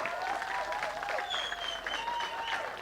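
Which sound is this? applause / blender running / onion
applause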